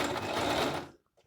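A Singer M3305 sewing machine stitches a hem with a steady, close mechanical whir. It runs for about a second, then stops abruptly, leaving near silence.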